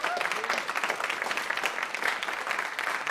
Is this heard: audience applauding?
yes